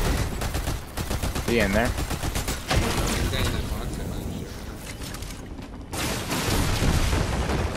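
Rapid gunfire bursts in a ranked shooter video game, loud repeated volleys and automatic fire with a brief lull, while players talk over the shots.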